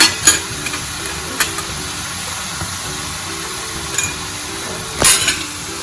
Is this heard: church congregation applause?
no